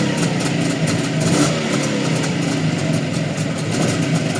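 A Jawa motorcycle engine runs steadily nearby, a continuous throaty idle with slight swells as the throttle is blipped, heard alone with no talk.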